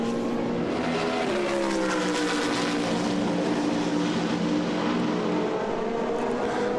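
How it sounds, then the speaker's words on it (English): Racing cars including a BMW, a Ferrari and a McLaren roar past at speed during a main race, their engines droning loud and steady with shifting pitch as they run close together. "So, as you can see, the BMW and now the Ferrari and then the McLaren"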